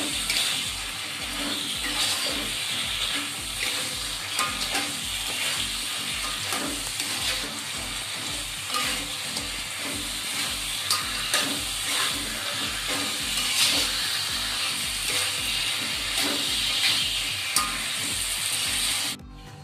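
Balado spice paste with salted cotton fish fries in a pan, cooking down until dry, with a steady loud sizzle and crackle punctuated by regular stirring scrapes throughout, no talking.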